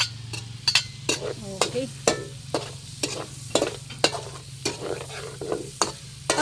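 Chopped onion and garlic frying in hot oil left from frying chicken, stirred in repeated scraping strokes over a steady low sizzle, close and moderately loud, with a brief spoken word.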